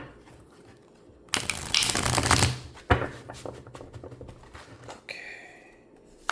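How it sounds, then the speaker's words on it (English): A deck of tarot cards being shuffled, a loud riffling burst followed by a sharp snap and lighter rustling shuffles, close to the microphone. "And one more shuffle,"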